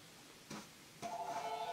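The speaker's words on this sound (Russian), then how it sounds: "Сейчас на телефон отвечу." Telephone ringing faintly indoors, with two soft knocks before a thin electronic ring tone starts and holds steadily to the end.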